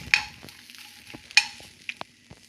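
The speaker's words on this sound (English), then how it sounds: "I'm putting red chilies. So let it roast for a while." Red chilies and whole spices dry-roasting in a pan, heard as sparse scraping and rattling stirs with a few sharp clinks of a utensil against metal, quiet between strokes and no sizzle.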